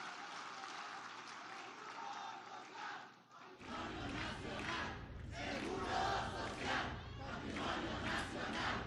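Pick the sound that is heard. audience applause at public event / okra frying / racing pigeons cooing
audience applause at public event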